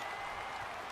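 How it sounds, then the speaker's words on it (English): A steady, unbroken roar of crowd noise at a video game football match, a full stadium sound with no individual voices standing out. "the crowd getting into it as we come up on a big 3rd down"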